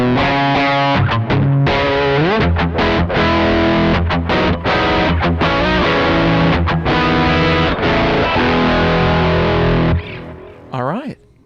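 Electric guitar played through a JOYO amp modeler pedal, a distorted chorused tone strumming chords and picked notes continuously and loudly up close, fading near the end.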